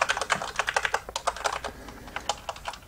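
Fast typing on a Corsair K70 RGB Rapid Fire mechanical keyboard with quiet, non-clicky switches, a dense run of light close-up keystrokes in quick, slightly uneven rhythm with no voices.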